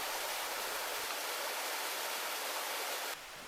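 Yeonhwa waterfall in Gucheondong valley on Deogyusan mountain pours as a dense, even rushing roar, close and constant, with no other sounds.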